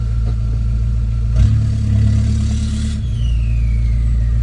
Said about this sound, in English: The turbo is so much louder.